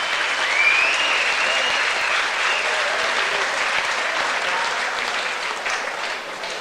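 A crowd applauds a French kickboxing fighter after an ISKA super welterweight title bout in Melbourne, sustained clapping from many hands that stays loud and even, then eases slightly toward the end.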